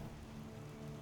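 Steady rain pours down in a video game, an even dense hiss of drops splashing on surfaces that goes on without a break.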